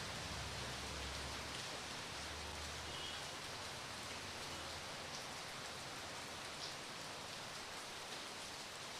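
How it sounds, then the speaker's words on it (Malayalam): Steady rain falls in Kochi, an even, dense hiss of drops on surfaces that holds unbroken from start to finish with no voices. "നല്ല മഴയുടെ ശബ്ദം കേൾക്കുന്നു."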